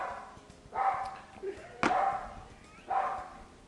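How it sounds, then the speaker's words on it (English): A dog named Presley barks indoors in a home kitchen, three separate sharp barks spaced about a second apart at moderate distance, with no other voices. "Quit that barking."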